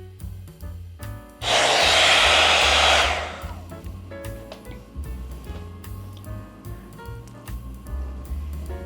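Agaro blow dry brush drying hair, a loud whooshing airflow burst of about two seconds, then quieter brushing and rubbing through the hair with light ticks and low background tones.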